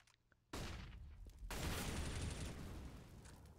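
A flashbang grenade detonates in CS:GO, a sudden loud burst after a quiet moment that swells into a sustained, bright ringing roar filling the rest of the clip, with no voices.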